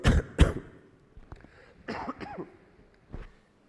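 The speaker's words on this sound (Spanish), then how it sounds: "porque voy a seguir tosiendo" Several harsh coughs in close succession, loud and near, followed by a couple of quieter throat-clearing coughs with short pauses between them.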